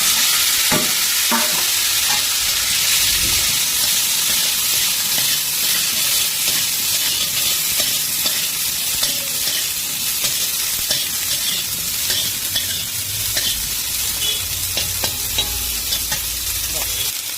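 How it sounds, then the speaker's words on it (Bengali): Cut cauliflower with a little turmeric sizzles and fries in a pan while being stirred, with steady loud hiss and repeated scraping stir strokes throughout. "আর দিয়ে দিচ্ছি কেটে রাখা ফুলকপি"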